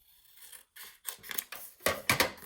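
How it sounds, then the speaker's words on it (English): Scissors snip through a single sheet of craft paper in a series of short, close cuts that grow louder and crisper toward the end. "oh, I forgot to cut this down"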